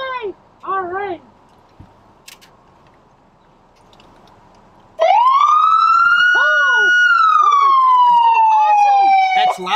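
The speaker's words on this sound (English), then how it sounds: "would you put your lights and siren on for all the kids at home?" A police car siren starts up after a few short whoops, then wails loud and close in a long rising and falling tone that holds steady to the end.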